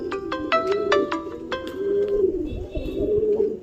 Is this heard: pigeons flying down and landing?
yes